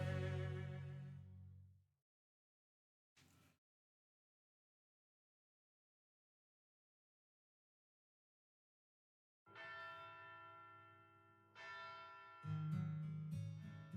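Bell of Pilgrimage in the game Fate/Grand Order, a bell ringing in the distance with long tonal decays in a couple of separated bursts amid quiet gaps, alone without talk.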